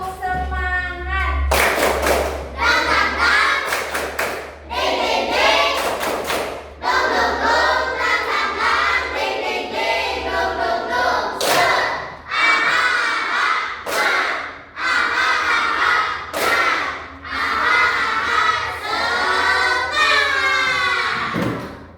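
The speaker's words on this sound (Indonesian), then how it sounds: "Mau dengar lagi tepuk semangatnya dong." A classroom of schoolchildren performing the 'tepuk semangat' clapping chant, loud voices chanting together in bursts punctuated by sharp unison claps, repeated across several rhythmic phrases.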